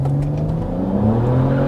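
A BMW E92 335i with stock turbos, JB4 tune, port injection and E85 flash launching in second gear, engine droning loud and close with a steady rising pitch.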